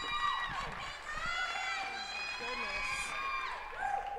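An audience at a talk cheering and shouting for a speaker, a lively crowd roar with whoops and high voices that holds steady for about four seconds.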